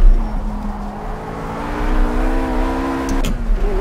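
A RUF RGT 8 race car in the Project CARS racing game accelerates hard on the Eifelwald circuit. Its engine note climbs steadily and loudly, then breaks briefly near the end at a gear change before pulling again.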